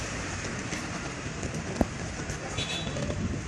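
Heavy rain pours down in cold weather at Waikiki, making a steady, dense hiss that fills the whole clip at an even level, with one brief sharp knock near the middle.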